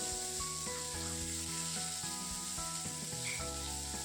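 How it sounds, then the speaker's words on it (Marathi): Onion with chunks of ginger and garlic cloves roasting in a pan for a dhaba-style matar paneer base, a steady close sizzle under a constant hum with faint scraping stirs. "कांदा भाजत भाजत लसूण आणि आलंही भाजून घ्यायचं"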